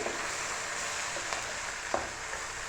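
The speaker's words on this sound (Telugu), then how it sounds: "ఇదంతా కూడా పచ్చివాసన పోయేంత వరకు కూడా ఈ ఆయిల్లోనే వేగాలండి." A blended tomato and onion paste fries in oil in a pan on a stove at medium heat, giving off a continuous dense sizzle with a few soft stirring clicks.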